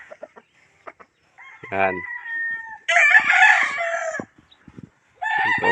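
An uncle's chickens and roosters: a rooster crows loudly close by, followed by clucking and more crowing in separate bursts, with someone speaking briefly between them.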